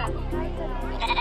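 At a New Zealand agricultural show, goats bleat during the goat judging. A short, wavering call rises near the end over steady crowd chatter and a nearby voice.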